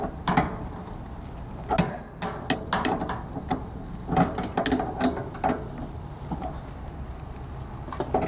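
Fasteners are tightened to secure a propane stove regulator in an RV, giving irregular clicks, taps and ratcheting ticks close by, with short clustered bursts and pauses.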